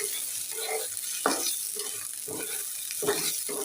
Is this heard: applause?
no